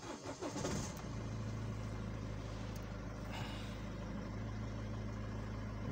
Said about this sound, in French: Donc je vais démarrer la voiture pour voir.